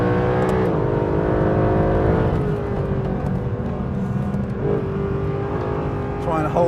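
A Mercedes SLS AMG Black Series with 630 horsepower revs hard through corners on a race track, its engine note rising and falling between gears, loud and close from inside the car.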